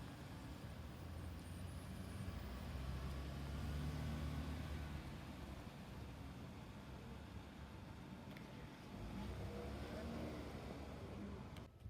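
Cars idling and creeping through a school morning drop-off line, a faint, steady low rumble of engines and road noise with a slight swell midway, heard from a distance.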